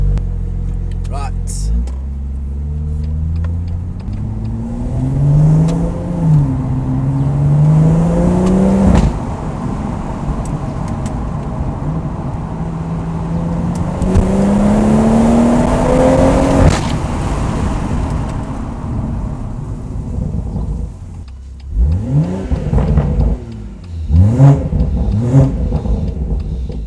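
A de-catted BMW M140i accelerates hard with a loud, raspy exhaust, revs climbing in two long pulls before easing off, heard from inside the car with people talking over the engine.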